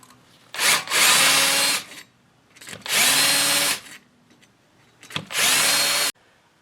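A power tool sands the face of a rear brake piston from a 2020-or-later Nissan Sentra, running in three harsh, close bursts of about a second each with short quiet pauses between them.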